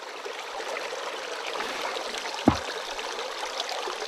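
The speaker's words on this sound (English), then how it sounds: "we'll get a nice smooth pour, and we'll empty our bucket with a little bit less stress" A bucket of sand and water pours into a gold sluice box, a steady rushing trickle of water with a single sharp knock partway through, close and continuous.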